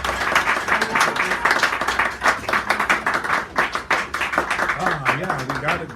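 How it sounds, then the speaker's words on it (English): A cafe audience at a poetry reading claps and applauds steadily, with a voice talking over the clapping near the end. "Give her a really big round of applause."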